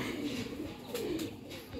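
A female high-flyer pigeon coos softly in low, rounded murmurs over a steady background hiss, close by and alone without talk.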